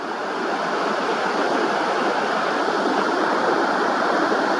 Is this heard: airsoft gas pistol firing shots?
no